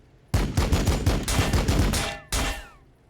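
Rapid bursts of gunfire from Space Marine units in Warhammer 40,000: Battlesector, loud and close, firing in a dense rhythmic volley for about two seconds, a short pause, then one more burst that trails off.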